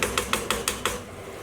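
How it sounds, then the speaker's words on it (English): Curry sauce being stirred and scraped in a pan, heard as six quick, evenly spaced metallic scrapes close by, then a short quiet tail. "continue to stir and scrape the pan"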